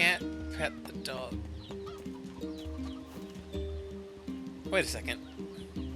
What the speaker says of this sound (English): Is that the same rooster sound from